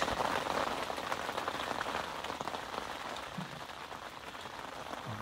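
Heavy evening rain pours down at a carp fishing lake at Norton Disney, a dense, steady hiss of drops drumming close by on surfaces, with nothing else over it.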